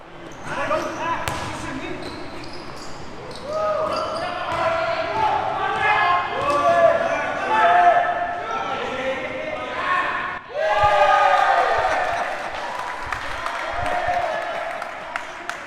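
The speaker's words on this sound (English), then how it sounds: "Listen to the crowd cheer on Jacob Villagomez for this three-pointer during the third" A high school basketball crowd in a gym cheers and shouts after a three-pointer in the third quarter, loud and sustained with a brief dip midway before surging again, voices and a commentator mixed in.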